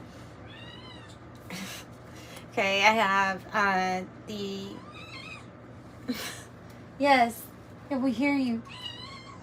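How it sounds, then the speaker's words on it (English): A small kitten meows repeatedly in short, high cries while people talk quietly nearby between the calls. "That's a cat, and it's a kitten,"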